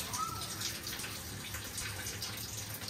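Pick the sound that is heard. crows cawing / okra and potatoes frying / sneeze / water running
water running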